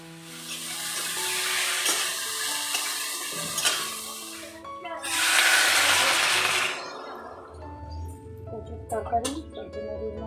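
Potato and taro pieces fry in a pan with salt and turmeric, a close sizzling hiss that swells into a loud rushing burst midway, while a person talks over much of it and utensils clink toward the end.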